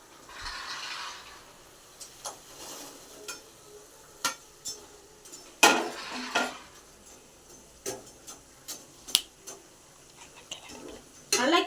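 Fried bread pieces are stirred into hot sugar syrup in a pan for bread halwa, giving scattered scrapes, clinks of a spoon against the pan and soft sticky sizzling, irregular and close.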